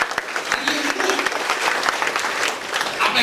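Church congregation clapping in steady, dense applause at a service about breaking curses, a broad wash of hand claps with a faint voice mixed in.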